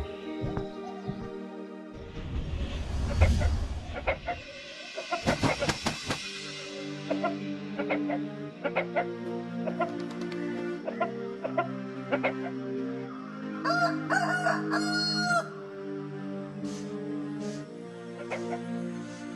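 A rooster, a storybook fighting cock, crows and clucks in repeated calls over a steady musical backing, with a few thumping beats early on.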